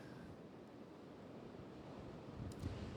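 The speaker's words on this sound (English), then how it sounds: "You could probably hear the waves of Lake Erie behind me," Waves on Lake Erie during a winter storm at Geneva-on-the-Lake, Ohio, a steady low roar of surf mixed with wind buffeting, continuous and fairly distant, with a slight swell near the end.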